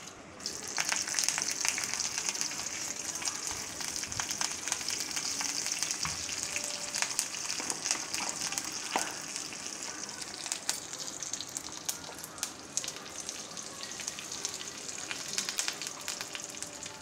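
Curry leaves and dried red chillies frying in hot oil, giving a steady, bright sizzle with crackling pops throughout, heard up close and on its own.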